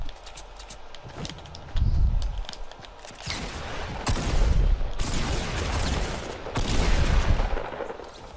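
Gunfire in an online shooter game with a headshot kill, several loud bursts of shots in uneven clusters amid thumping footsteps and game noise.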